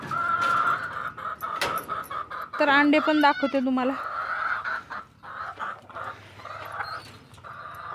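Chickens cluck nearby in a goat-farm shed, with a burst of loud squawking in the middle while someone talks over the scene.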